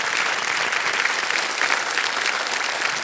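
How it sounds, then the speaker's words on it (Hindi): Studio audience on the game show Kaun Banega Crorepati Season 16 gives a dense, continuous burst of applause, loud and close, with no talking over it. "ताली बज जाए।"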